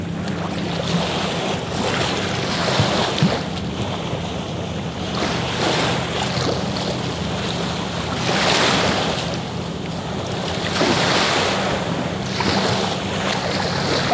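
Ocean waves breaking on a shore, a continuous roar of surf with wind noise on the microphone and surges swelling every few seconds, no speech.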